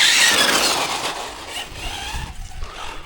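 A Hobao TT2.0 Pro RC car spinning its wheels, a loud, close whining rush of motor and tire noise that fades over a few seconds into rumbling.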